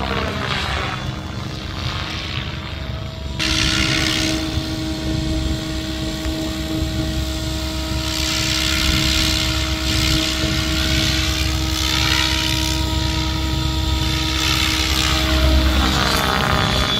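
A Nimbus 550 radio-controlled helicopter with Ultimate blades flies nearby, its rotor and motor giving a loud, steady whine with sustained tonal hums that swell and shift in pitch as it maneuvers.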